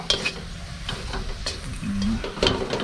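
Garlic stir-fried in a pan alongside pork belly, a moderate sizzle with scraping stirs and occasional clinks of a utensil against metal, accompanied by faint background voices.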